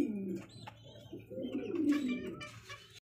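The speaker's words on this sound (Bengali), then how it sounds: "বিগ সাইজের একজোড়া কবুতর, অরিজিনালি মন্ডিয়ান ব্ল্যাকের মধ্যে" A pair of big black Mondain pigeons coo close by, with low repeated throaty coos rolling on and off and a few faint higher chirps in the background.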